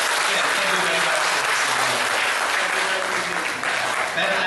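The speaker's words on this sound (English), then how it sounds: "inviting all of you to give an applause to Mr. Hu Lintao" Loud, sustained audience applause at a lecture held by the communications ministry and attended by the ITU Secretary General, filling the hall for over four seconds with a brief dip near the end.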